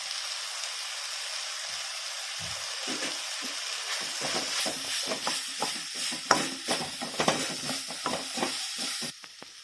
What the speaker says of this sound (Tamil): தக்காளி வெங்காயம் வதங்கிருச்சு, மிளகாத்தூள் போடும்.